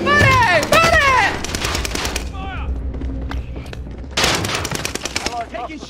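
Rapid gunfire in Call of Duty Warzone on Rebirth Island, loud bursts of automatic shots with sharp cracks and echoing tails, pausing briefly before another volley, with game voices and a player talking over it.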